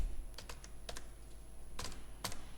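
Source code is typed on a computer keyboard in short, quiet bursts of close keystroke clicks separated by pauses, over a faint steady hum with no talking.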